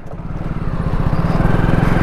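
Motorcycle engine thrumming steadily while the bike is ridden, a loud, close, pulsing low rumble with no talk over it.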